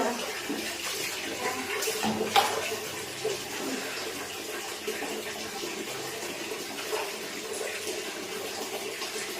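Water splashes and runs steadily while being poured and mixed for a bath, a continuous close wash of liquid with a few louder splashes early on.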